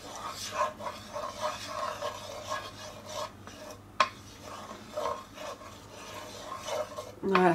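A utensil scrapes and stirs butter and shallots in a hot pan for turkey risotto, a continuous rasping rhythm with light clinks, while a voice talks faintly in the background.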